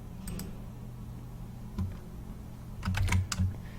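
Keys on a computer keyboard being typed while entering an ID and password, soft scattered clicks in two short bursts near the start and a denser cluster toward the end, faint and close with no talking.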